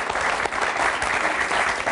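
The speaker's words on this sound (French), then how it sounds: "applaudissez très fort" A television studio audience applauds loudly and steadily, dense clapping filling the whole stretch without pause, with no voices over it.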